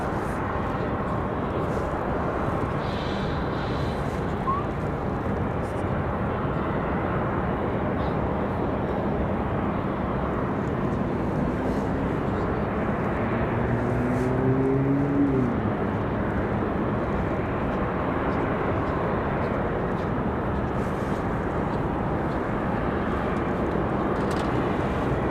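An Aeromexico airliner takes off bound for Mexico City, a steady distant jet rumble holding at moderate level through the whole stretch, with a voice briefly audible over it.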